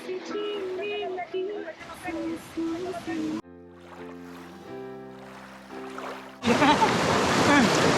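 Fast-flowing water in the Dialdok River in Mizoram surges in as a loud, steady broadband rush over the last seconds, after a stretch dominated by people talking and background music.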